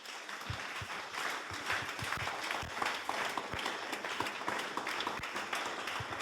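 A church congregation at a morning devotional claps and cheers for Jesus, sustained, dense applause with scattered voices, fairly distant and steady throughout.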